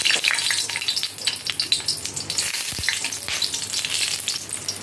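Four dried red chilies fry in hot oil as tempering for a pointed gourd mash, giving a loud, continuous sizzle and crackle with bursts of sharp spitting and no voices.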